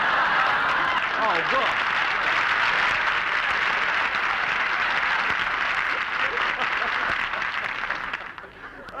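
Studio audience applause greets a guest on a radio comedy, a dense, sustained burst of clapping that fades out near the end as a voice begins to speak.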